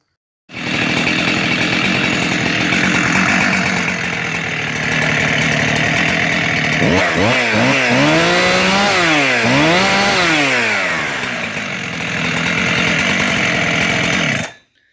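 A rebuilt 372-style chainsaw engine runs loudly and steadily close by, with the throttle blipped several times midway so the revving pitch rises and falls before it settles back and cuts off.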